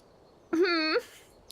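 A person imitates a bird, giving one short whistled call with a rising start and a steady, slightly wavering tone that lasts about half a second, then a faint click.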